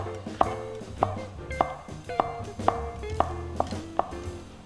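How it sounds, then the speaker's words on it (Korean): A knife slices shiitake mushrooms thinly on a cutting board, giving about nine crisp, evenly spaced chops close by, with no talking. "표고버섯은 그냥 얇게 슬라이스 하셔서"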